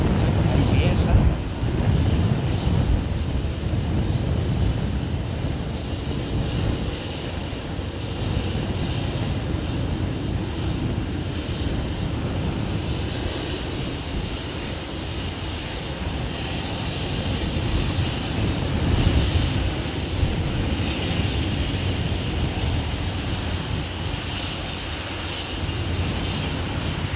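An inbound Lufthansa Airbus A320neo in special centenary livery produces a continuous broadband engine roar, heard from a vehicle on a road trip near the airfield, steady and fairly loud with wind noise throughout.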